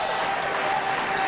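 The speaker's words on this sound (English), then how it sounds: "I'm going to ask you to please hold your applause" Audience applause fills a brief moment at a Connecticut gubernatorial debate, an even, continuous patter of many hands clapping without any voices on top.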